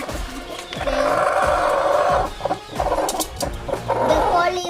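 Chickens cluck in short bursts close by, with brief rustling and a few sharp squawks between them.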